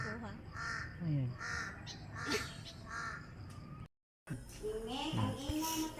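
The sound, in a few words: crow cawing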